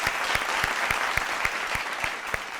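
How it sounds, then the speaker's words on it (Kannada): Loud applause for arriving guests at a televised singing reality show, a dense crowd clapping with sharp individual claps standing out, close and steady for the whole stretch, alone without talk. "ಜೋರಾದ ಚಪ್ಪಾಳೆ ಬರಲಿ."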